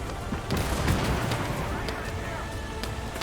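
Heavy machine gun fire rattles during a convoy ambush in a war video game, sharp bursts of shots crackling over a dense rumbling battle din, moderately distant.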